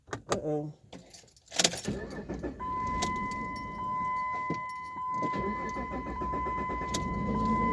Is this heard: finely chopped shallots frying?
no